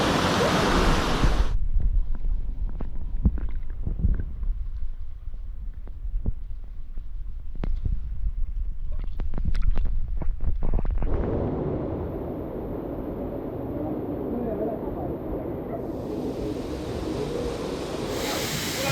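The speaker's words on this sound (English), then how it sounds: "Fresh water with a waterfall." Waterfall at Cascata da Portela do Homem in Peneda-Gerês, Portugal, a steady broadband rush of falling fresh water that drops back briefly then returns strongly, heard close and loud with no talk.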